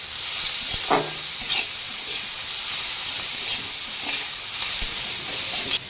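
Pointed gourd with onion and salt fries in a pan, giving a constant bright hissing sizzle, close and even, punctuated by a few soft clinks and scrapes as it is stirred.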